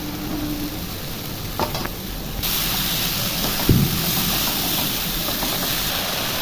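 Tomatoes drop into a pan of chicken kosha spiced with turmeric, salt, cumin and coriander powder, and a loud steady sizzle follows with a few soft stirring knocks.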